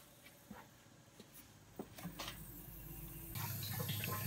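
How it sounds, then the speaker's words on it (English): A booster pump for an RO/DI water system runs with water flowing through it. Scattered clicks and trickles come first, then a louder, steady rushing hum settles in for the last second. "You can hear the pumps on."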